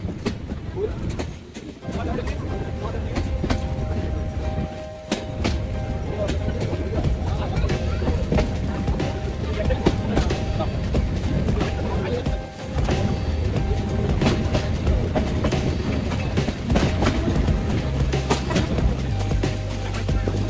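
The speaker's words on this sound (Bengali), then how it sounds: "এখানে 2 মিনিটের বিরতির পর ট্রেন আবার ছেড়ে যাবে।" Ekota Express passenger train running along the rails, a loud continuous rumble with rhythmic clickety-clack from the carriage, heard from on board with brief dips in the noise.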